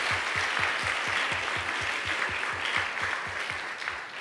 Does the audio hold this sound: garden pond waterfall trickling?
no